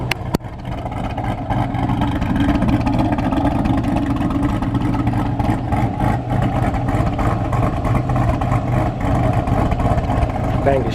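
A Pontiac G8 with a swapped supercharged LSA V8 idles with a deep, lumpy, choppy rumble, steady and loud nearby, with a sharp knock at the start and someone talking over it.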